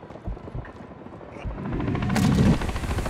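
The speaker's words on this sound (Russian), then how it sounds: "Минус два вертолета" A helicopter in the video game Call of Duty Modern Warfare III swells in, its rotor chop building from quiet scattered sounds into a loud, close, pulsing roar.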